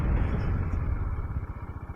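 A motorcycle climbs a mountain road toward Velliangiri near Coimbatore, its engine giving a steady, close low rumble that pulses faster toward the end, with no talk over it.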